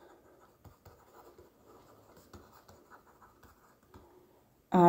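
A pen scratching across paper while working through an accounting problem, soft and close with uneven strokes and taps, then a sudden loud knock right at the end.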